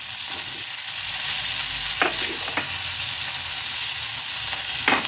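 Small fish and tofu fry in a hot pan with a constant loud sizzle, broken by a few sharp stirring scrapes and spatters near the start, middle and end; no one speaks.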